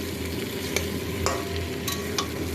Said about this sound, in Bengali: দেখো চিকেন হচ্ছে।